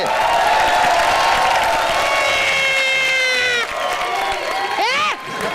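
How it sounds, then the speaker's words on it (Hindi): A studio audience at a Hindi TV comedy show cheers and whoops with some applause, loud and sustained, with shouted voices rising over a continuous crowd roar. "जोरदार तालियां हो जाए भारती और करण के लिए।"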